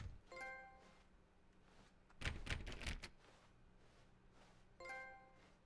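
Button press in The Stanley Parable Ultra Deluxe giving a keyboard-like clatter: a dense burst of rapid clicks near the middle, with faint tonal chimes at the start and end.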